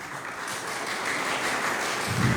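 Steady applause from an audience at a school ceremony at Lycée Nord Alexis in Haiti, a dense, even patter of many hands clapping throughout, fairly loud and continuous with no speech over it.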